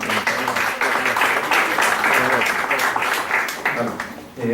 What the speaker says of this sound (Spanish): Lo vamos a recibir con un fuerte aplauso a Javier Beroiz, desde España